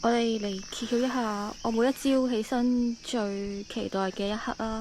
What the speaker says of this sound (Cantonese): 我一朝早係俾呢個嘅蟬鳴嘈醒我啊！